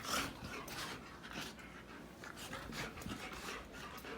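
A dog out on a patio pants in quick rhythmic breaths with faint whimpers, heard close but soft and alone.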